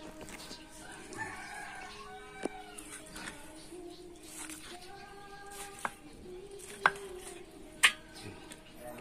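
Meat being sliced with a knife on a board for papaitan: a few sharp, separate cuts spaced irregularly, over a low background of voices and animal calls.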